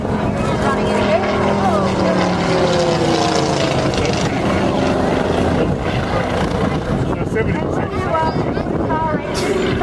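A piston-engined warbird roars past loud and close at an airshow in Tyabb, its engine note sweeping downward as it passes, with a steady heavy drone throughout.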